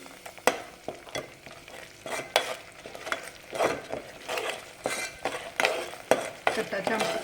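Masala with crushed garlic cloves and curry leaves sautés in oil in a pan, with a steady crackling sizzle and repeated scraping stirs of a spoon at an irregular rhythm, close and fairly loud.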